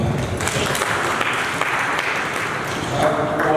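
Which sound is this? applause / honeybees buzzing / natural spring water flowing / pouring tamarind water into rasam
applause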